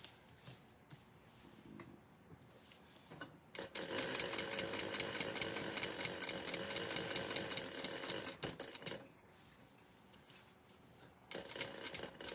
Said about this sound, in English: I do stitch around the sides of the box at this point.